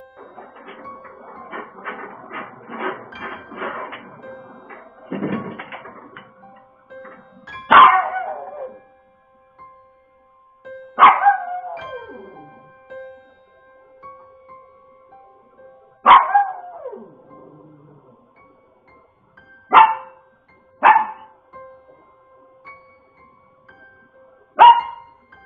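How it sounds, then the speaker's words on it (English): A dog barks in loud, separate bursts spaced several seconds apart after being pushed back from a wall, preceded by a stretch of quicker, softer yips and whimpering noises. "the dog was pushed back quite far from the wall, and it reacts by barking and acting confused as to what just happened"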